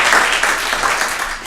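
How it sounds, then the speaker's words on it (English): Audience applause for a volunteer at a comedy show fills the room with steady, dense clapping that holds strong throughout and eases slightly at the end. "Round of applause for Shalia."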